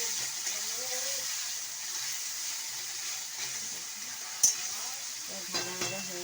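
Chopped onions fry in a pan with a steady soft sizzle, a sharp clink of a utensil midway and a couple of stirring knocks near the end, while a voice talks faintly.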